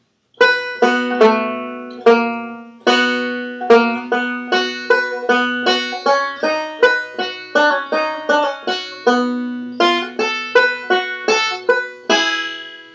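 A five-string banjo picks a quick bluegrass phrase, a steady stream of bright plucked rolls with ringing notes, played alone and close without any talking.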